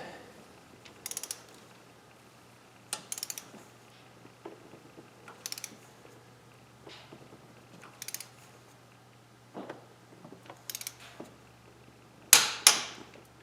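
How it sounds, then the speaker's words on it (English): A wrench set to 45 tightens cylinder head bolts during a head gasket job on a 3900 LZ9 engine, producing sparse, isolated ratcheting clicks spaced a few seconds apart over a quiet background, with a sharper, louder clatter near the end. "Got a wrench at 45."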